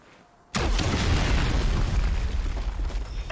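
Exploding potatoes blow up in the video game Giants: Citizen Kabuto, a sudden loud boom after a short quiet lead-in, then a dense roaring rumble that carries on without speech.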